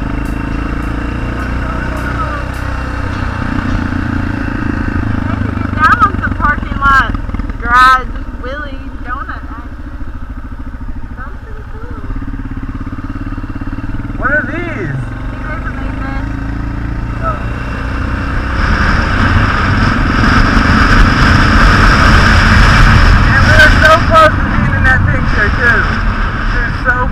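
A 50cc supermoto motorcycle engine revs and drones loudly and steadily through repeated wheelies outdoors, swelling louder near the end, with voices talking over it.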